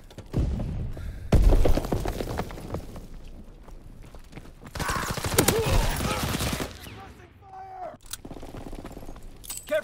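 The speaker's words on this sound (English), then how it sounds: "Heavy fire!" Heavy gunfire in a video game, bursts of rapid automatic fire and shots crackling loudly in several stretches, with a voice talking over the action.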